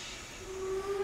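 Steam hiss from a steam locomotive venting while braking at the end of the line in a video game, a steady broad hiss rising slightly with a thin whistle-like tone coming in, heard alone.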